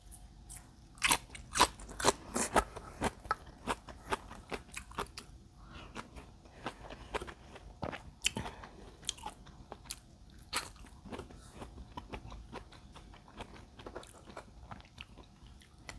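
Close, loud crunching and gnawing of chicken feet curry with kaffir lime leaves, sharp bony cracks and wet chewing bites repeating irregularly, densest early on and then spacing out.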